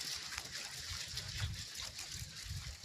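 Water filling a clay pot, a soft continuous trickle and gush heard faintly and fairly close, with no voices over it.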